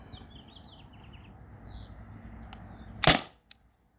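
A single sharp air pistol shot from a T4E TR50 or Beeman BP50, fired outdoors during chronograph testing, cracks out loud and close after a quiet stretch with faint birdsong, followed by a brief short click.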